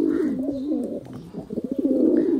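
A close high-flying pigeon of an old Khulna breed coos in a continuous, rolling, throaty warble, several phrases running together with barely a pause.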